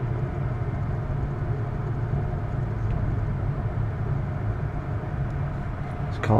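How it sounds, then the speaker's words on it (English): Train approaching near Ayr station on the Sunlander route in Queensland, a steady low rumble building throughout with a sharper burst at the very end, with people talking over it. "There's a train coming here."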